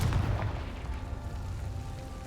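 A Confringo fire spell explodes in Hogwarts Legacy, with a loud booming blast at the start that decays into a low rumbling tail.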